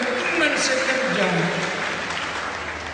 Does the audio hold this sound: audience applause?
yes